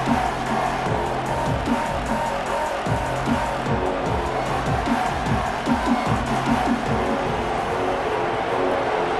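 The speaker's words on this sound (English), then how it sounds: "the crowd coming to life here, trying to help this defense down in the red zone" A stadium crowd in the EA Sports College Football 26 video game keeps up a dense, steady roar of cheering throughout. It stays loud and sustained, with no distinct pauses.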